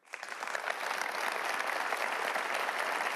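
A burst of crowd applause used as a sound effect, swelling quickly from nothing into a steady dense wash of many hands clapping that holds evenly throughout.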